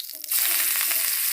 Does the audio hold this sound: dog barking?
no